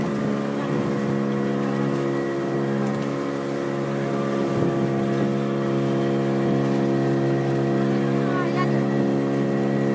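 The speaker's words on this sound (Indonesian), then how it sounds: "Kita naik perahu ke tengah laut." A boat's steady outboard motor drone hums throughout at sea off the Trenggalek coast, loud and close, with faint water wash and occasional voices murmuring underneath.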